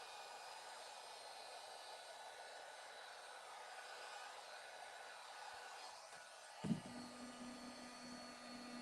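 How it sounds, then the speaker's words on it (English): A heat tool blows hot air steadily over a crusty, rusty old washboard: a faint, even hiss that runs throughout, with one brief knock near the end. "let's heat that one"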